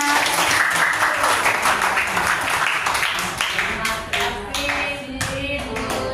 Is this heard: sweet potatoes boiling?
no